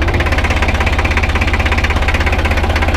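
A 1965 Deutz D 40 tractor engine labours uphill, a loud, close, steady diesel chug with a fast even knocking rhythm and strong low rumble throughout.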